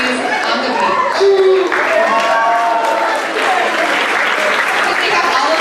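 Audience applause fills an awards ceremony hall as designers are called back onto the stage, steady clapping mixed with crowd noise and some voices over it.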